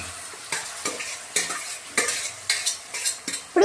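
Chicken curry is stirred in a pan with a rhythmic run of scraping spoon strokes over a low sizzle, each stroke sharp and close, with no talking.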